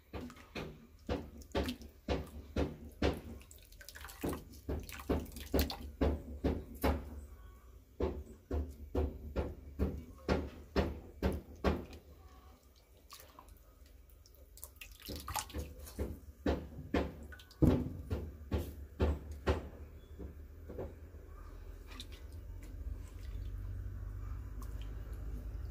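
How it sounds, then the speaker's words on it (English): Grated coconut squeezed by hand in a home kitchen for coconut milk, giving a long run of close, wet squelching squeezes and drips in quick irregular bursts, with a brief pause midway and a rising hiss of background noise toward the end. "just juicing the coconut, guys, to get the milk"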